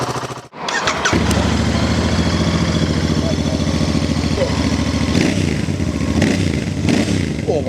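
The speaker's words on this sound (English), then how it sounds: "Now let's see what the standard Bear sounds like." A Royal Enfield Bear 650 motorcycle engine fires up after a short click and runs with a loud, rasping, throbbing exhaust note up close, revving and settling throughout with no talk.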